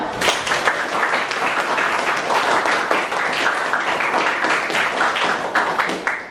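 A class of students applauds together in a room, a dense, sustained wash of clapping at even strength with a few sharper individual claps standing out.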